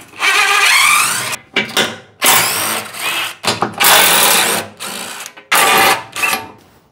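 Bolts on a Toyota 4Runner TRD front skid plate being spun out with a 14 mm wrench, giving several loud, close bursts of rapid mechanical whirring separated by short pauses.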